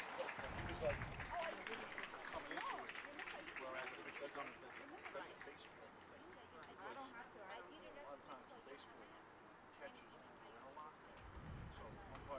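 Spectators applaud the Wagner Falcons softball team at a high school championship, a soft, continuous wash of clapping heard faintly with people talking over it.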